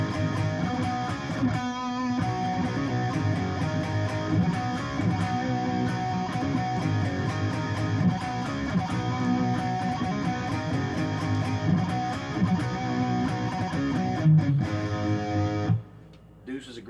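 Electric guitar plays the main riff of a rock song in a classic rock guitarist's style, a dense, continuous rock band mix with driving rhythm that cuts off abruptly near the end.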